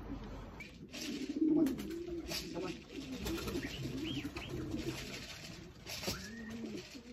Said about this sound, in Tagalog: Nakikita ko nagdadatingan na ang mga ibon.